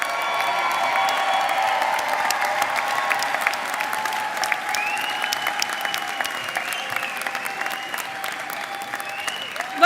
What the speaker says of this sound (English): Let's also give another round of applause